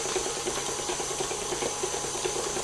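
Water poured into a whipping cake mixture in a bowl, a steady, even pour heard close up and moderately loud with no talk.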